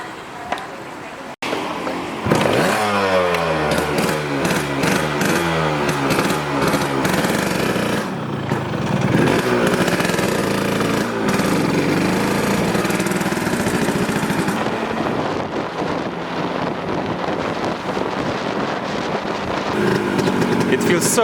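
An old motorcycle engine runs steadily while being ridden on a road in Thailand, a loud continuous drone with rising and falling revs, starting after a brief quiet moment.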